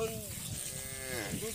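A calf on a Padma river char near the Bangladesh border lets out a single drawn-out moo, close and clear against faint outdoor background noise.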